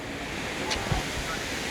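Steady broadband wind rushes and buffets the microphone outdoors in The Hague, a constant loud roar with faint voices briefly underneath.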